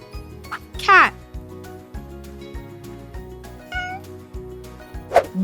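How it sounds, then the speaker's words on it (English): A domestic cat meows clearly, with one strong meow near the start, a softer one midway and another at the end, over a steady rhythmic musical backing in a children's farm-animal vocabulary lesson. "Cat."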